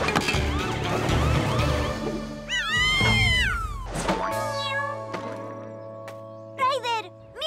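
Kitten meowing in a Spanish-dialogue PAW Patrol cartoon rescue scene, several high sliding mews mixed with cartoon voices, music and siren-like effects.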